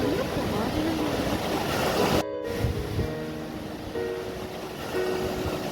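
Sea waves at a beach, a continuous broad wash of surf with wind noise on the microphone, moderately loud throughout, with a brief dropout partway and faint voices in the background.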